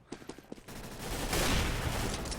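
A Glock pistol fires in Counter-Strike: Global Offensive, several quick sharp shots at the start followed by a denser rattle of gunfire, loud and close with no talk.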